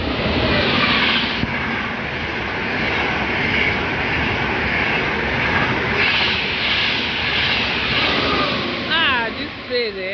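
Fast train rushing past in or near Bologna, a loud sustained roar that swells and fades over several seconds, with background voices and a brief whistle-like tone near the end.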